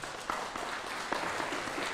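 Town hall audience applause fills the room, a dense, steady round of clapping from many people lasting the whole moment.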